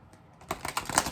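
A deck of cards is shuffled once at close range, a quick riffle of crisp clicking taps that follows a quiet moment.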